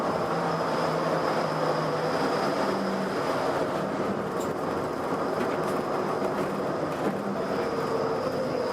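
Disneyland Railroad train pulling into Downtown Disney Station, a steady rolling rumble of rail cars with faint clickety-clack and a thin high whine, continuous and moderately close, with no talking.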